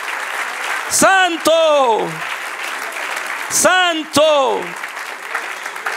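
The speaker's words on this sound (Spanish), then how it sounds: "Dale un aplauso al que reina." A church congregation applauds steadily as a continuous wash of clapping underneath a voice that calls out twice over it.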